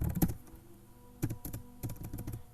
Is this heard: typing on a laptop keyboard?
yes